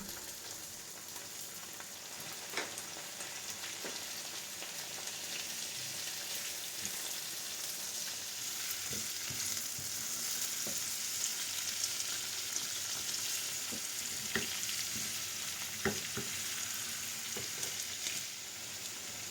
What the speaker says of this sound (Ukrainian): Коли цибуля трохи зм'якне, потрібно додати решту нарізаних овочів.